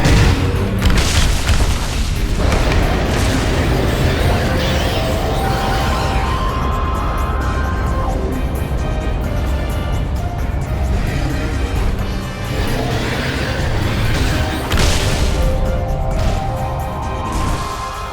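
Aliens Armageddon arcade game in play with a Pulse Rifle, a dense barrage of booming explosions and crashes layered over continuous game music and rumble, loud throughout.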